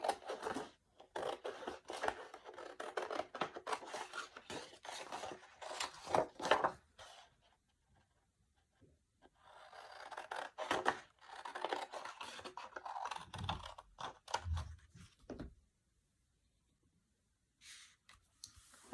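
Scissors snip and scratch through a paper template in a classroom fiber art craft, a series of close, quiet bursts of cutting broken by short pauses.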